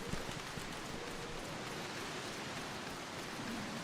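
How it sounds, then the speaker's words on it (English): Heavy rain falling in Final Fantasy XIV, a steady, dense wash of downpour on surfaces, even and unbroken, with no voices over it. "It's never usually this like rainy."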